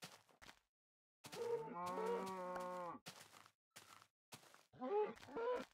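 Cows in Minecraft Beta 1.3_01 give several low, drawn-out game moos, one long and others shorter, clear and fairly close, with no talk.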